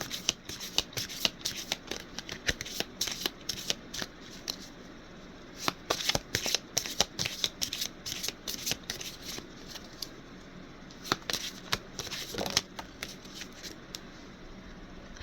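A deck of Archangelic Animal oracle cards being shuffled by hand, with rapid papery riffles and flicks arriving in repeated bursts, close and fairly quiet, with no talking.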